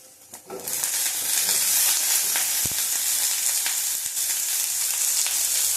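Pumpkin frying in a little oil in a pan, a steady loud sizzle with scattered stirring scrapes, starting after a quiet moment and continuing close throughout without talk.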